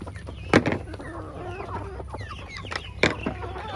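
Backyard chickens gathered at feeding time cluck and chatter in short, busy calls, with a couple of sharper loud squawks standing out above the steady flock murmur outdoors.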